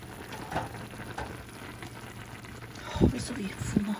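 Dolma wrapped in fresh grape leaves bubbles in a cooking pot, giving a faint, irregular simmering burble with a few louder pops, while a person talks over it.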